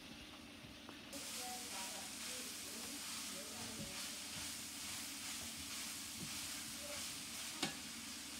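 Ground beef with onions and peppers frying in a pan, a steady close sizzle and hiss throughout with occasional faint stirring clinks.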